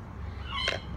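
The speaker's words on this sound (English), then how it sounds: "you can hear that little dog crying" A little dog whimpers once in a short, high, plaintive cry that rises briefly over a low steady background hum, faint and somewhat distant.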